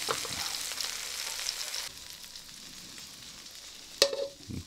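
Onion stir-fries in a pan while cooking a Filipino pork liver steak, a steady close sizzle and crackle that eases midway, with a sharp utensil clatter near the end and no talk.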